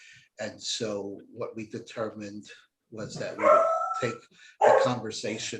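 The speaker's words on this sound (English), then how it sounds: "Sorry for the background noise, the dog barking." A dog barks in the background, with a couple of sharp yips rising behind the steady talk of a person in a public works committee meeting.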